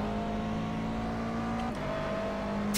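A McLaren MP4 12C GT3 race car in iRacing at Bathurst holds a steady engine drone that dips briefly in pitch partway through, as if shifting gear, then carries on at a lower note.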